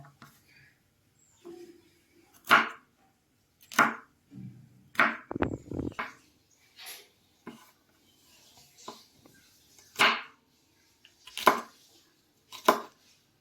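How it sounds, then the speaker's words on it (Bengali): A knife chops okra pods into pieces on a cutting board, producing sparse, crisp thuds spaced a second or two apart, close up, with quiet talk between cuts. "আমি এরকম শেপে কেটে নেবো, এক একটা ঢ্যাঁড়স 3টে করে।"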